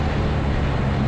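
A BMW R1250R SE motorcycle boxer engine gives a short throttle blip while riding, a loud steady low rumble with wind noise over the brief moment.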